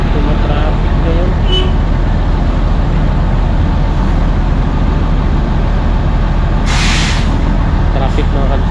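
Heavy road traffic in Dasma rumbles loudly and continuously with trucks and buses, broken by a sharp air-brake hiss near the end, while people talk nearby.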